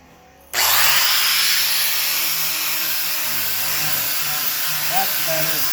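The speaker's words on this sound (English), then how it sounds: "Get my grinder out here." A half-worn flat disc on an angle grinder spins up with a sharp jump and grinds rust from the steel body of a 1983 square-body truck, a loud steady whine with a harsh, hissy edge that continues without a break.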